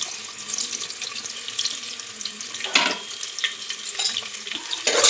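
Onions tipped into hot oil spiced with caraway, cinnamon and cloves for a Telangana tamarind-leaf chicken curry, a steady bright sizzle with a few sharper pops, with no talk over it.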